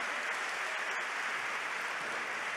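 Church congregation clapping together in steady, dense applause, a continuous even patter at moderate distance with no voices over it.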